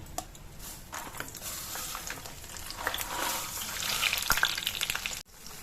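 Chana dal and urad dal frying in hot oil for a tempering for raw mango pulihora, a steady close sizzle that builds louder with faint stirring clicks, then cuts off abruptly near the end.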